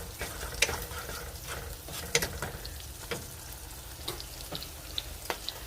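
Butter melts in a pan, giving a soft, steady sizzle with light crackles and occasional sharper pops, close and alone.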